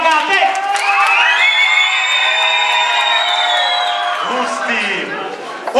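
A children's audience at a costume party cheers, whoops and shouts loudly and continuously, with bright high voices and clapping mixed in, building over several seconds and dipping near the end.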